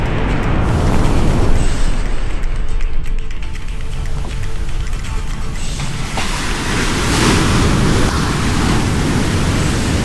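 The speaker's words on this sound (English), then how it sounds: "those are the waves behind me" Ocean waves wash onto the beach at Pundaquit as a loud, steady roar of surf, with wind buffeting the microphone.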